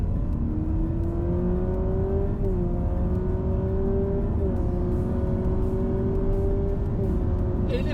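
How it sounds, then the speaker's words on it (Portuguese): A Honda Civic hybrid hums steadily with rising whine, dipping briefly a few times with simulated gear shifts, continuous and fairly close. "Ele faz uma simulação de troca de marcha por som"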